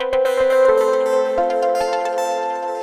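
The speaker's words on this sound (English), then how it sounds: "So that's the sound of my mini freak synth." An Arturia MiniFreak synthesizer plays a bright, sustained harmonic patch with a rhythmic sequence of plucky note attacks over held tones, loud and close with no talking.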